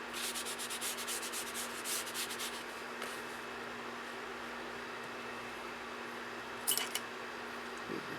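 Quiet, steady rubbing as newsprint is worked over a painted surface like smooth sandpaper during conservation of a battlefield action painting, close and soft with light strokes and a faint clink near the end.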